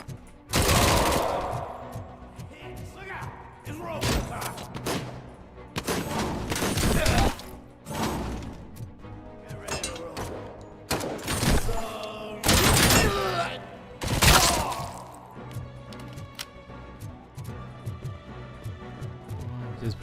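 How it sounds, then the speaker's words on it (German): Gunfire in Robocop: Rogue City, repeated bursts of loud automatic shots and heavy impacts with shattering debris, arriving in clusters separated by brief quieter gaps, with some talk in between. "Wer schießt hier auf mich?"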